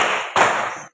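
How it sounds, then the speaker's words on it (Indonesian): A classroom of pupils joins in a clapping game, producing two quick, crisp bursts of group clapping in rapid succession at close range, then silence. "Tepuk ganda."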